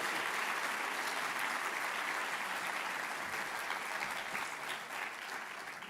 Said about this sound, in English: I want a special applause for her